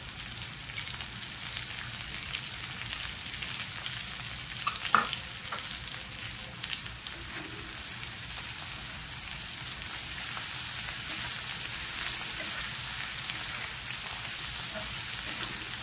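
Coriander sizzling in hot oil as the tempering for a baby prawn fry, a dense, steady crackle lasting throughout with a few brief clatters near the middle, no talking.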